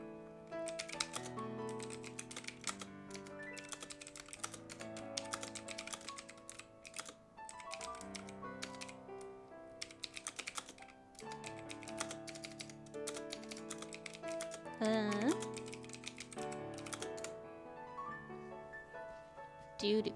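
Computer keyboard keys clack in quick, uneven bursts of typing close to the microphone, layered over sustained melodic background music, with short pauses between flurries.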